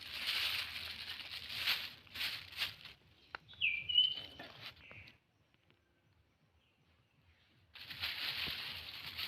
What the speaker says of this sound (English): beautiful bird sound here,